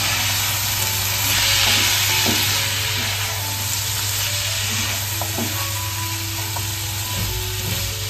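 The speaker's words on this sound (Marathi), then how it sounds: "सर्व यांना पण परतवून घ्यायचंय." Mixed vegetables seasoned with Maggi masala being sautéed in a pan, a loud, steady sizzle and hiss close by with intermittent stirring taps and scrapes, no voices.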